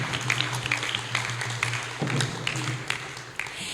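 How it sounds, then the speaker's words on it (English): Applause from the audience at a Sunday love feast in a temple hall, a steady wash of many hands clapping with scattered sharper claps, moderately loud, over a faint low hum. "So a huge round of applause to the youth."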